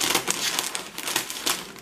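Scissors snip open the top of a plastic cereal bag, giving a close, crinkly run of crackling bursts with a few sharper crunches, and no voices.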